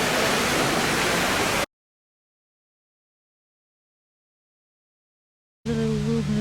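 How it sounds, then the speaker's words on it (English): Steady, dense rush of indoor spring water bubbling and flowing at a lodge resort on its way to an outdoor waterfall, heard as broadband noise that cuts out into silence, then returns with a faint hum. "you've got the Bubbling Spring here, where the water originates, then it goes under the bridge and outside to Copper Creek Falls"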